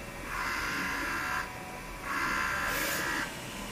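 An industrial DTF printer, a Nebula-35F, prints a nozzle check pattern after head cleaning, giving two steady whirring passes of its moving print head with a short gap between them, fairly close and not loud.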